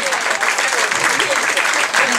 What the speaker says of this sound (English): 16 years old, deserves extra applause.